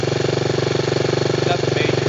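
A Honda 250SX engine with a loud aftermarket exhaust runs in a steady, pulsing drone, revving slightly as it goes through the gears, close and loud throughout.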